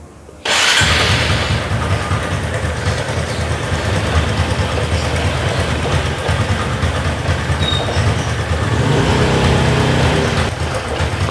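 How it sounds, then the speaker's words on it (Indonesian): A motorcycle engine fires up after its push-button switch is bypassed with a jumper cable, then runs at a loud, steady idle close by for about ten seconds before cutting out abruptly at the end. "Tentunya motor akan menyala."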